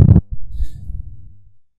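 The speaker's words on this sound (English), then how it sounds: "sorry about that noise, it's telling me I've got a meeting soon" A computer alert chimes for an upcoming meeting, a short loud electronic tone up front and then a softer low burbling tail that fades out within about a second and a half, with no talking.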